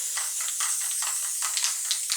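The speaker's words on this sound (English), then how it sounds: "a lot of times I just spray it in the garbage can" A Liquitex spray paint can sprays into a garbage can in short repeated hissing bursts, close and fairly loud, with brief gaps between each spray.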